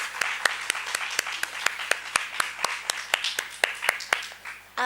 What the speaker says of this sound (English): So let's applaud first.